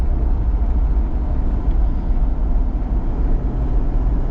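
A used Mercedes G-Wagon with a 5.0 V8 cruises along, giving a steady, loud, low engine and road rumble throughout with no voices.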